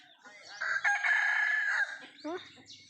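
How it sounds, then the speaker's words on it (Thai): A rooster crows once in a long, strained call, followed by a few short clucks close by. "เสียงไก่"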